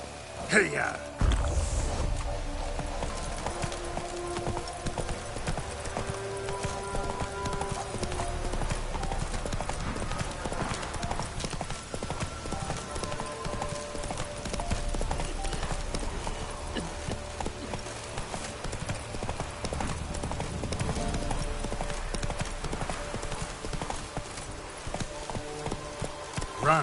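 Roach, a horse in The Witcher 3 video game, gallops with a rapid, continuous drumming of hooves that stays close and loud, mixed with game music and ambience.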